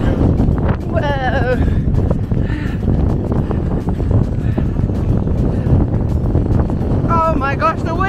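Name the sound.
strong headwind on fell running course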